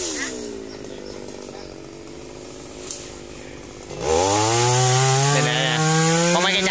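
Chainsaw cutting a dipterocarp tree in Bình Tân, Vietnam, idling and sputtering at first, then revving hard to a loud, steady high-pitched whine as it bites into the wood, close and sustained.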